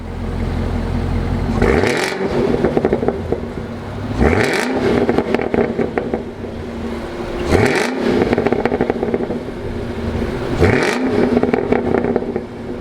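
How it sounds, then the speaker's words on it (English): A 2019 Chevrolet Camaro ZL1's LT4 engine idles, then snaps through four sharp, loud revs spaced a few seconds apart, each one rising and falling back to idle. "Let's fire up this LT4 and see if it makes any noise."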